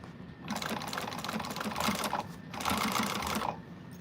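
Sewing machine running fast while stitching a slouch shoulder bag, two sustained bursts of rapid mechanical stitching separated by a brief pause, close and steady.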